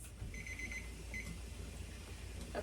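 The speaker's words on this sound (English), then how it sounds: "the timer has gone off" A kitchen timer goes off after jars of applesauce and apple juice finish a 20-minute canning process, giving a short run of rapid beeps, a pause, then a brief second burst over a low steady background hum.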